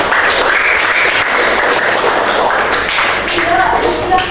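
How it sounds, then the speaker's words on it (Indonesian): Applause from a group in a classroom coaching session, a steady wash of hand clapping lasting a few seconds with voices talking underneath. "beri tepuk tangan untuk Tia."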